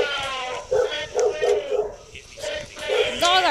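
Dogs bark and yelp noisily in a Roblox Baldi game, a run of repeated barks with whimpering tones, close and loud throughout.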